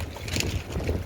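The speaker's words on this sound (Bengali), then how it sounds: "হাওয়া শুরু হয়ে গেছে, বৃষ্টি হচ্ছে, প্রচুর পরিমাণে ঠান্ডা হাওয়া দিচ্ছে এখানটায়" Cold wind on the road up toward Aru Valley, with rain falling, buffets the microphone in a short, rough burst of rushing noise.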